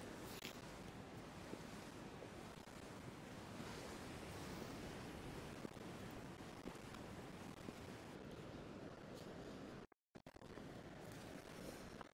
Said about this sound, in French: pourquoi les vagues déferlent et pourquoi c'est un peu compliqué